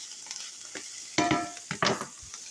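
Onions fry in a pan, giving a steady sizzle broken by a few louder bursts of stirring and scraping, close up with no talking.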